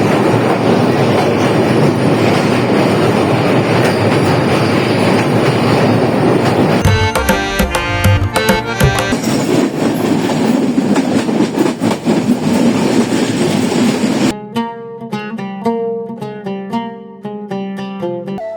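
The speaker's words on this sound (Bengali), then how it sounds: "ট্রেনের ঝিকঝিক আওয়াজ" A train between Bheramara and Jessore, Bangladesh, rumbles loudly past, wheels clattering rhythmically over rail joints, then the roar drops away to a lighter clacking.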